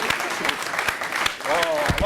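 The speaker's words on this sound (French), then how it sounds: "On va applaudir pour les propriétaires du téléphone." Applause from an audience breaks out in an informal gathering, scattered claps with talk and voices mixed in throughout, ending in a louder burst of clapping.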